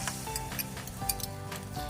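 Beaten egg sizzles in a hot buttered pan, a steady crackling hiss with a faint stirring clatter and low background hum, close and continuous.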